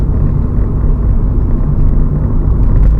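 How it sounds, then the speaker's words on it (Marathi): A car is driven in at close range near a highway, its steady low engine and road rumble loud and unbroken throughout, with no talking. "आतमध्ये घेतो मी गाडी"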